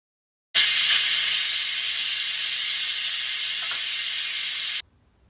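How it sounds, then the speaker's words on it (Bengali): A pressure cooker vents steam in one loud, steady hiss that starts abruptly, holds for about four seconds and then cuts off sharply, heard alone and close. "এইবার আমি প্রেশার কুকারে একটা সিটি মেরে নেব"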